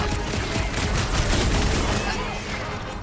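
Dense, continuous gunfire from weapons in the video game Marvel's Guardians of the Galaxy, a loud sustained barrage of rapid shots with booming impacts and game effects layered throughout.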